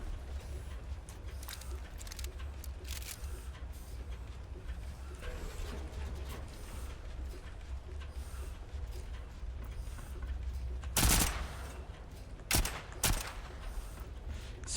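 An SMG fires in Volcanoids in a few short, loud bursts near the end, over a low mechanical hum and quiet game ambience.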